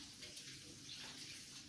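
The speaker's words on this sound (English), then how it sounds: "let me wash my hands" Water running from a tap as hands are washed at a kitchen sink, a steady soft splashing hiss, faint and continuous with no talk.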